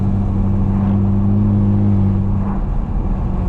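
A modified 2008 BMW E82 135i with a twin-turbo engine making around 400 hp accelerates: a smooth, loud, rising engine hum heard from inside the car, easing off briefly near the end.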